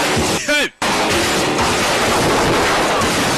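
Burst of gunfire in a dubbed action film as bullets are fired at a fleeing car, with a loud sustained roar of shots and engine noise filling the scene after a brief cut, dense and close.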